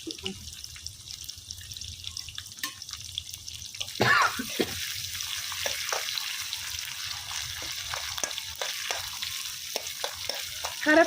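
Cumin powder fries in oil in a pan on a husk-fired stove for urad dal curry: a quiet background hiss swells into a louder, fuller sizzle after a few seconds, with intermittent stirring scrapes and no talk.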